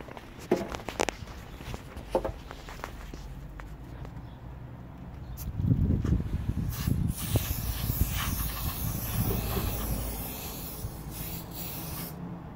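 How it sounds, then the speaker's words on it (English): Aerosol can of Ambersil conformal coating sprayed onto a Samsung UE49MU7000 TV circuit board: light handling and rubbing sounds at first, then a steady, close, continuous spray hiss through the second half. "whenever we spray it in situ"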